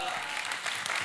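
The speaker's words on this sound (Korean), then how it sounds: "나오실 때에 할렐루야로 목사님 큰 박수로 맞이해 주시기 바랍니다." A church congregation claps loudly to welcome the pastor to the pulpit in a brief, dense burst of applause, with voices mixed in.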